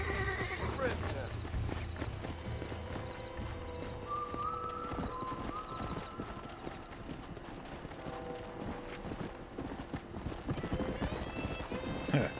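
Horse being broken in within the video game Red Dead Redemption, with rapid clip-clop hoofbeats, shrill neighs and whinnies, and struggling commotion throughout, fairly close, with a voice talking over parts of it.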